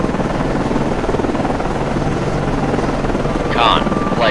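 A helicopter launches from a US Navy cruiser, the USS Vella Gulf (CG-72), in the Cold Waters game, with loud continuous rotor thrum and engine whine and a short higher chirp near the end. A voice speaks over it.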